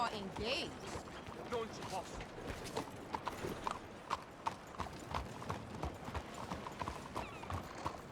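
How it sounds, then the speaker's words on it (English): Horse hooves clip-clop steadily in Red Dead Redemption 2, a rhythmic close trot through a town heading toward the saloon, with voices talking over it and brief game ambience. "Yeah, that's my horse."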